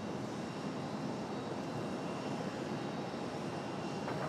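Southwest jet airliner taking off from a runway at Raleigh-Durham airport, a broad, steady engine roar heard from a distance, fairly faint and without speech.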